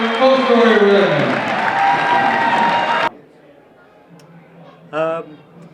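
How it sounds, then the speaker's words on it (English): A crowd at a school ceremony honoring a 1993-94 boys basketball regional runner-up team breaks into loud applause and cheering, a thick wash of sound that cuts off abruptly, leaving quiet room tone and a brief voice. "Let's give a round of applause to our 1993-94 regional runner-up, Fostoria Redmen."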